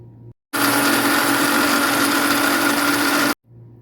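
A mixer grinder pulverises roasted spices for idli milagai podi into powder, a loud, steady whirring roar that starts abruptly, runs for about three seconds and cuts off, with quiet room tone on either side.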